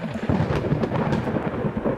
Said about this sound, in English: What's with the thunder?